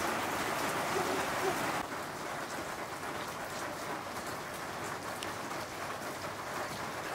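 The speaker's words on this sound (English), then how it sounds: "So the rain's just come on" Steady rain pattering on surfaces on the Annapurna Circuit trek in Nepal, a dense continuous hiss that drops slightly in level early on and then holds, with no voices.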